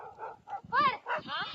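A few short dog yips and whining barks come close together, high-pitched and near, mixed with brief vocal sounds.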